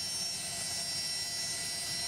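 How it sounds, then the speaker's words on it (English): Jet engines hold a steady, loud broadband roar with a high whine running through it, continuous and unchanging across the moment. "Sound of jet engines."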